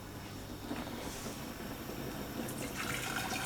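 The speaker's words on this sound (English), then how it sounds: "put the boiling water in the bottom" Boiling water pours steadily into the bottom pot of a cooking pan set, a soft continuous splashing and gurgling heard up close and fairly quiet, with no voices.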